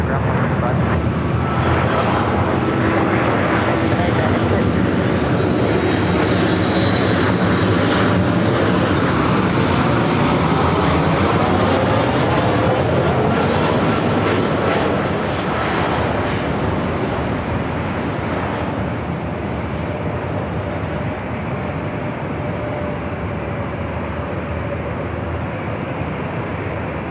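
KLM Boeing 787 Dreamliner jet on the ground at LAX, a loud continuous broadband engine roar that swells and slowly fades over nearly half a minute, with radio chatter and talk running underneath.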